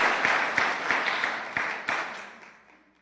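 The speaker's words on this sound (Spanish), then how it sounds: "¿Usted cree que Dios merece un aplauso?" A church congregation claps in applause during a sermon, a dense burst of hand claps with a few sharper accents that fades away over three seconds.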